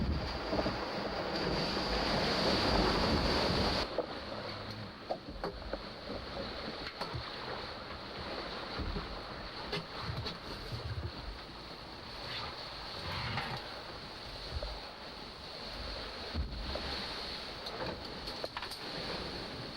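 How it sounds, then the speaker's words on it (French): Roaring 40-knot south wind and rushing waves batter a sailing boat near the South Pole, a steady loud wash with gusty bursts and knocks, heaviest at the start. "40 nœuds de vent de sud, tout près du pôle sud"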